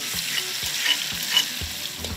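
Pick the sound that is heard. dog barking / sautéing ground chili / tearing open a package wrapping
sautéing ground chili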